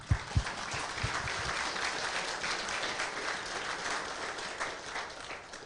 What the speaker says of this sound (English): quick clap for the sponsors